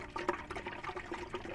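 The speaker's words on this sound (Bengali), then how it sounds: "এই দুটো সারকে ভালো করে আপনি মিশিয়ে নেন।" Two liquid plant fertilizers are stirred together in water, giving soft sloshing and gurgling with small splashes in an irregular rhythm, fairly quiet and close, with no talking.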